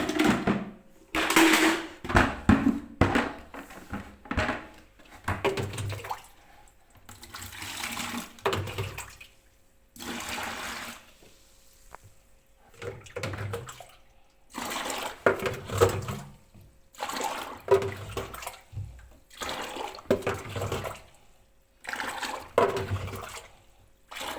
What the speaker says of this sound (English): I'm going to use a bucket and a small tin to remove the water.